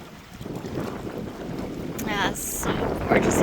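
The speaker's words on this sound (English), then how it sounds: "Oh, I love this wind." Outdoor wind gusting across the microphone with a low rumbling buffet, steady and close, with brief voice-like sounds near the end.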